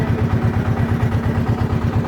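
A trawler boat's diesel engine chugs steadily on a river trip toward the white-stone area near Bholaganj, Sylhet, a loud close rhythmic thudding throb with no talk.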